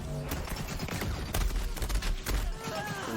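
Rapid shotgun blasts and gunfire in the video game Borderlands 3, dense and loud throughout, mixed with chaotic combat effects and a voice talking over it.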